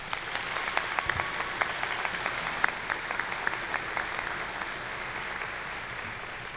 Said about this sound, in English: Would you please give them all a round of applause?